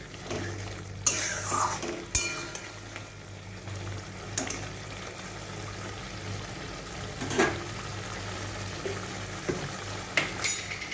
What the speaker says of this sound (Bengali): পটলটাও ভালো করে একটু মিশিয়ে নেব।